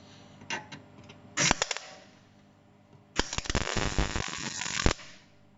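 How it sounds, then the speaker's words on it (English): Plug welding with a MIG welder, two bursts of loud, close crackling and sputtering, a short one followed by a longer sustained sizzle. "These here will be plug welded, which I can demonstrate now hopefully."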